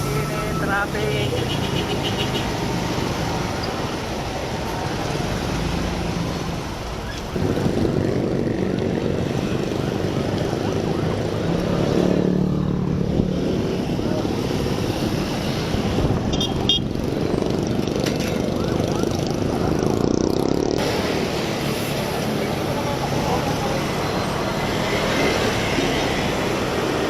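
Dense road traffic roars steadily around a motorcycle rider in a hot city jam, a loud continuous rumble with engine and wind noise throughout.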